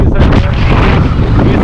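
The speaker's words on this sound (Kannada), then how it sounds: "ನಾವು ಟೂ ವಿಂಡಿ ಟುಡೇ, ಟೂ ವಿಂಡಿ" Strong wind buffets the microphone at Kerið crater in Iceland, a loud continuous low roar with gusty rumbling throughout.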